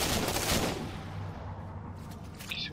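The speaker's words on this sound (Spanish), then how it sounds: "me están disparando" Gunfire in the video game Halo 4 during a multiplayer match, a dense burst of shots at the start that thins into a low rumble of distant fire.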